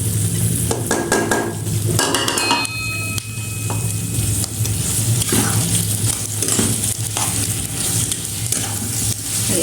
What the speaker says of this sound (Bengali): অনবরত নাড়তে হবে যেন চিনিটা গলে শক্ত না হয়ে যায়।